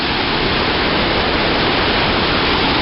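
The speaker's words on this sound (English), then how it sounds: "And what a beautiful waterfall, huh?" Waterfall in Cascade Canyon in the Tetons, a loud, steady, broadband roar of falling water heard close by, with no voices over it.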